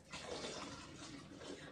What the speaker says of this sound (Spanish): Le vamos a agregar el resto de nuestra agua que nos queda